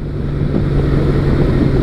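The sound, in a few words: wind buffeting microphone while riding a Honda Valkyrie motorcycle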